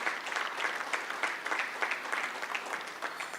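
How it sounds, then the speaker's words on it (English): Audience clapping at a medical conference, a brief dense burst of applause from a crowd indoors, steady throughout. "So big round of applause for them,"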